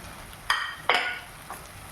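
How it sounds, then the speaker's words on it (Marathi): Ground soya chunks, blitzed fine in a mixer, tipped into a hot frying pan: two close, sharp sizzling bursts followed by a softer third, with no voices. "यामध्ये आता आपण हे जे आपण सोयाबीन चंक्स होते जे मिक्सरमध्ये बारीक करून घेतलेले ते सगळे याच्यामध्ये टाकून घेऊया"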